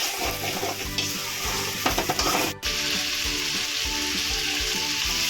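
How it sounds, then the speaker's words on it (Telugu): Chicken frying with ginger garlic paste in a pan, a strong continuous sizzle with rhythmic scraping and stirring strokes and a brief sharp clatter midway, close and unaccompanied by speech. "ఇలా 5 మినిట్స్ వేపుకోవాలి అండి, చికెన్ కొంచెం రెడ్గా అయ్యేంత వరకు"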